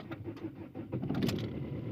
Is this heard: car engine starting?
yes